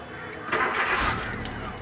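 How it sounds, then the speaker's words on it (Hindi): A Hyundai i10 engine cranks and catches as the ignition is switched on, a brief mid-pitched churn that settles into a steady running hum, close and fairly quiet. "अभी मैं इग्निशन स्विच ऑन करता हूँ"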